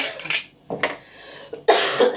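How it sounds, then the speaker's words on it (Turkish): A person coughs in a home kitchen, a few short rough bursts close to the microphone separated by brief pauses, with a light clink of dishes nearby. "Kızlar ben bu öksürüğü ne yapacağım?"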